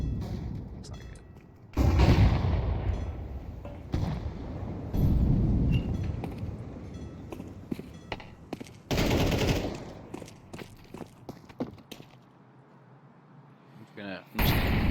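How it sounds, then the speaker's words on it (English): A flashbang grenade goes off in a video game, followed by loud bursts of gunfire and booming blasts that come in several waves, with other game noise in between. "Throwing a flashbang."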